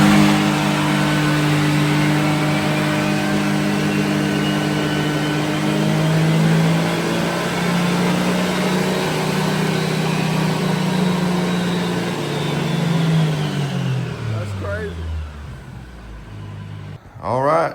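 A 2025 CFMOTO U10 Pro triple-cylinder engine runs on a dyno, pulling a loud, rising engine drone that climbs steadily, then drops away as the revs fall, with a short final burst.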